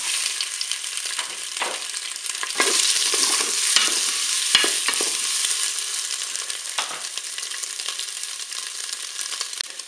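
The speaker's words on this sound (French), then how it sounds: "Je vais pouvoir faire revenir mes boulettes de bœuf." Beef meatballs brown in hot oil inside a Cookeo multicooker, giving a steady, loud sizzle and crackle with occasional stirring scrapes, no voices.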